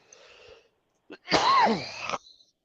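A single loud, close sneeze bursting out after a brief inhale, preceded by a faint breathy noise.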